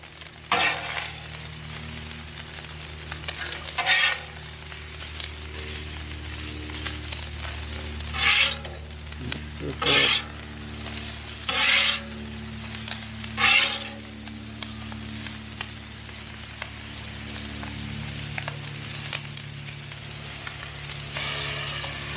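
Egg and fried rice sizzle on a Blackstone griddle for chicken fried rice, a steady frying hiss broken by about six loud metal spatula scrapes and clinks spread over the stretch, without speech.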